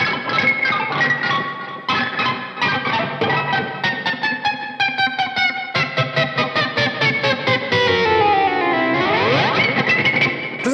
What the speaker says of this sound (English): everyone knows a pick scrape, like... instead of going down towards the neck, go over the strings